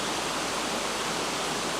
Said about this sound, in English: to hear this water rushing